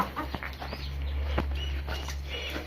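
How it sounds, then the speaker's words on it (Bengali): Hens and a rooster in a coop where eggs are laid, giving soft scattered clucks and short calls at close range over a steady low background hum, with no talking. "এই হচ্ছে দেখি 3টা মুরগি, 2টা ডেগি, একটা রাতা।"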